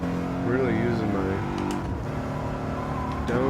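A BMW in a racing sim time trial at Autopolis blips and drops through downshifts, engine pitch rising and falling in quick revving sweeps under a steady drone, with someone talking over it.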